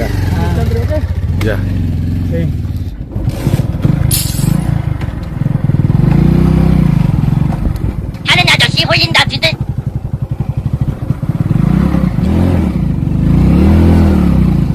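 A faulty motorcycle engine that lacks power putters and revs close by, its pitch rising and falling repeatedly, while a person talks over the running motor.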